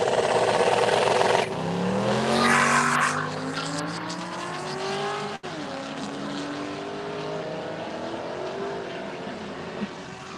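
A 2004 Pontiac GTO at a drag strip drag race roars off the line, its engine note climbing through gear changes and fading into the distance, loud and steady throughout.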